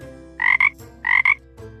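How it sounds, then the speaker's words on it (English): Green frog croaking sound effect in a children's picture-book read-aloud: two loud double-pulsed croaks, evenly spaced, alone with no talk. "I see a green frog looking at me."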